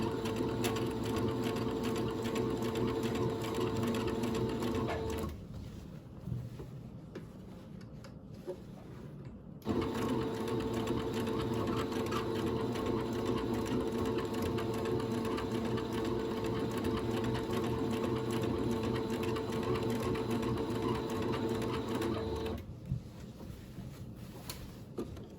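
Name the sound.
sewing machine stitching shirt fabric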